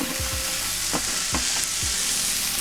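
Cilantro tossed into a hot pan for green shakshuka, with a few quick scraping stirs and clinks over a loud, constant close sizzle and no talking.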